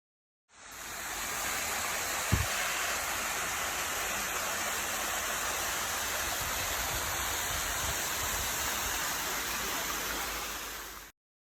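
A forest waterfall in the Smoky Mountains of Tennessee roars in a steady, dense rush of falling water that fades in, holds constant and fades out.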